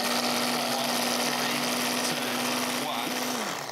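An electric food chopper whirs loudly and steadily as it dices parsley and garlic, a constant motor drone for several seconds before it winds down.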